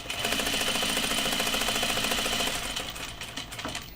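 A sewing machine stitching thread for overalls, a fast, even mechanical whirr of needle strokes close up that runs steadily and then slows and tapers toward the end, with no talk.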